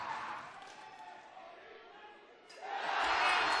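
Cricket stadium crowd at a men's World Cup match roaring broadly after a batsman is bowled, a sustained wash of cheering that dips slightly then surges louder near the end, with commentary voices underneath.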